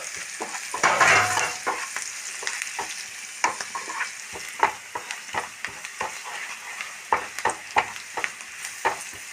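Okra and egg stir-fry sizzles in a pan while a spatula scrapes and stirs, producing a steady soft frying hiss punctuated by irregular clinking taps, close and without talk.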